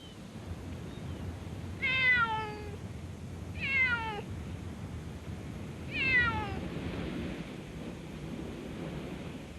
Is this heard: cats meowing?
yes